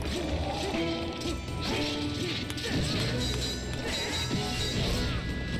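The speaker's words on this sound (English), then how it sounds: "This fucking shield breaks every single fucking fight." A shield breaking in The Legend of Zelda: Skyward Sword amid a busy fight, with repeated crashing, smashing impacts over constant game noise and music, loud and dense throughout.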